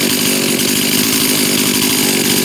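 A Husqvarna chainsaw engine, its carburetor's low-speed screw just turned leaner, runs loud and close at a steady, unbroken buzzing pitch with no talking.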